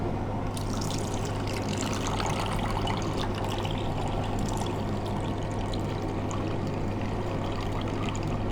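Amul Gold milk pours steadily into a mixture with cream, a continuous liquid gurgle and trickle with a low hum running underneath.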